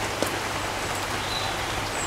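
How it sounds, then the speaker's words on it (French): Gentle rain falls steadily, a soft continuous hiss close around, with one faint tap near the start and no voices. "Oh, quelle surprise, il pleut toujours."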